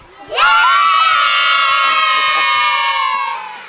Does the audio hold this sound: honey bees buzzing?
no